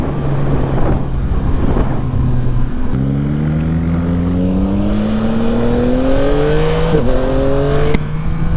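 A 2025 Yamaha MT-09 A2 motorcycle accelerating, loud and close, its engine note climbing through rising revs and a gear change with a brief dip before pulling up again.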